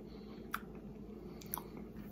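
Close, quiet chewing of Keebler peanut butter toast crackers, with a couple of sharp crunchy bites over a soft, steady mouth sound, no talking.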